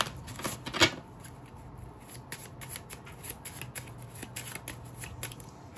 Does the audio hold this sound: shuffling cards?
yes